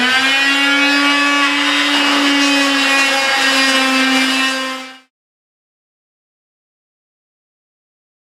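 A power sander works a scrap wood paddle reinforced with fiberglass, giving a loud, steady motor whine with a strong pitched hum for about five seconds before cutting off into silence.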